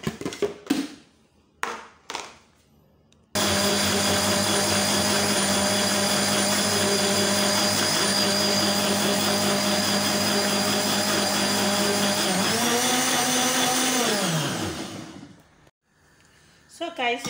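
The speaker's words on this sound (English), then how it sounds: "Let's blend" A kitchen blender whirs steadily for about nine seconds while grinding ingredients for egusi soup, then winds down and stops; brief talk and tapping come just before it starts.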